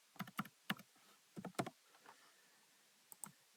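Keys tapped on a computer keyboard while entering a variable for a micro:bit project, a few quick clicks in short bursts, then a pause and two more near, crisp taps, fairly quiet with no talk.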